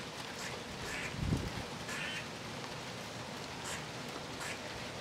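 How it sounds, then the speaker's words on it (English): Light rain patters outdoors at low volume, soft and continuous, with a brief dull thump partway through. "It's raining harder now."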